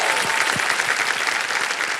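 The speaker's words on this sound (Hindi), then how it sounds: "एक बार फिर तालियां बज जाए पारस मानी जी के लिए।" A studio audience on the TV quiz show Kaun Banega Crorepati bursts into a short, full round of applause, continuous and even, with no talking on top.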